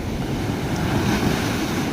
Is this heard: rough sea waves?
yes